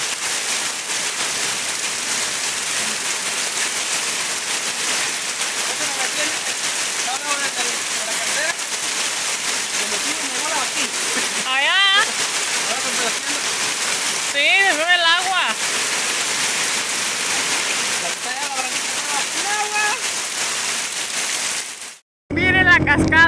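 Heavy rushing water from a swollen river and waterfall in the rain roars continuously; voices call out intermittently over the noise before it briefly cuts off near the end.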